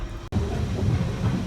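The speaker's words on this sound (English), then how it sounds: "a Central Line train running" A London Underground Central Line train runs along the track with a steady rumbling rattle. A brief dropout breaks the sound near the start, and no one speaks.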